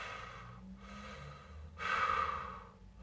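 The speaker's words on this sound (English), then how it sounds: "You may notice pursed lip breathing, which is when they bring their lips together and form a little circle in their mouth" Laboured breaths from a person with COPD: slow airy exhales through pursed lips alternate with quieter pauses, then one louder, longer breath near the end, close and faint, with no voices.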